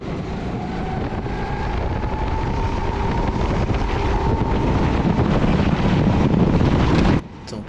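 Strong wind buffets the microphone at an outdoor kart race track, a loud constant rumble with an engine whine running through it, cutting off abruptly near the end.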